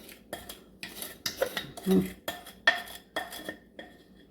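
A liquid mixture is poured into semolina and stirred in a bowl for qalb el louz, heard as a series of close, sharp clinks and scrapes of utensil against bowl with brief pauses between.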